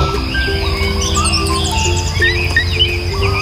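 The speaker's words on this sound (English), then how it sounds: "in a cozy forest full of chirping birds" Birds chirping in a forest as a storytime sound effect: many overlapping tweets and short calls, steady and fairly close, with a soft insect-like hum beneath and no talking.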